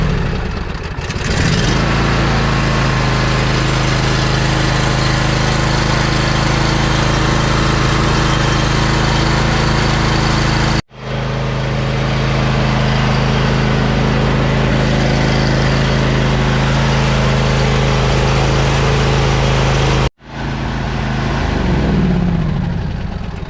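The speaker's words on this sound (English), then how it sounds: "So we'll start the tractor." A John Deere E180 lawn tractor engine, its new fuel pump still empty of fuel, cranks and catches, then runs at a loud steady idle; it cuts out abruptly twice and restarts each time.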